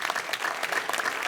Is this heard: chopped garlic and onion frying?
no